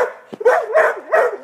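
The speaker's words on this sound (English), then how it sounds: "Sorry for the idiot dog." A dog barks and yips several times in close succession, loud and near, with short whiny, wavering barks spaced across the moment in an otherwise quiet outdoor setting.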